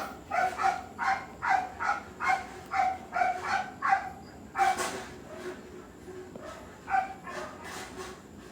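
A dog barks repeatedly in a quick, steady series, fairly close, pausing briefly before a few more barks.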